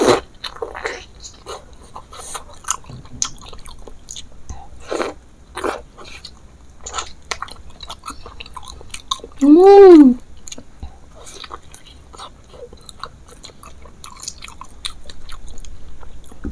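Close, intermittent bites and chews of bakso pentungan meatballs in a spicy mukbang, with soft crunches spaced across the quiet and one short voiced sound midway.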